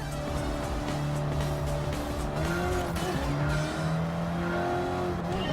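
A Corvette race car in Gran Turismo 7 roars steadily with engine drone close up, pitch rising and falling through gear changes, with tire squeal throughout and no talk.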